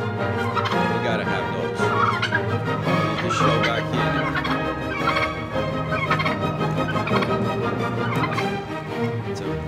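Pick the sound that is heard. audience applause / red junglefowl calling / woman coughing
red junglefowl calling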